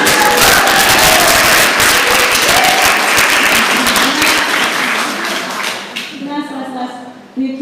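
An audience at an Eyebeam Assembly event gives loud, sustained applause that fills the room, then thins out toward the end as a voice begins to speak over it.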